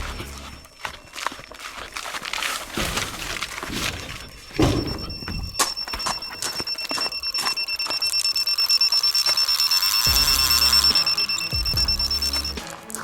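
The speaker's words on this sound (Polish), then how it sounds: "usłyszałem pikanie sygnalizatora" An electronic fishing bite alarm beeps in a rapid run of high pitched tones that grows denser, heard outdoors at night by the water alongside handling noises and thumps.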